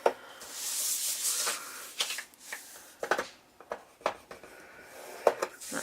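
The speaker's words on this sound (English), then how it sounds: "I'm going to score that on a 1/2 inch of both sides." Cardstock for a mini album being scored at half-inch marks with a scoring tool, giving close, quiet scraping strokes mixed with light rustles and taps of the paper, irregular and without talk.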